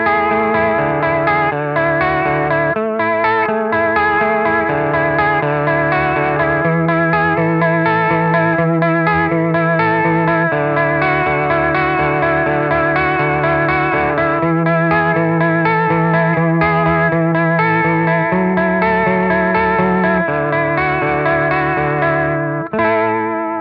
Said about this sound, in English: use it with the depth quite a long way down, but the speed up to make it sound like a rotary speaker type effect